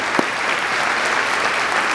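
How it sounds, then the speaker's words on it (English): An audience at a school district State of the Union address claps in steady, even applause, a dense wash of hands that carries on throughout at moderate loudness. "We know, that deserves an applause."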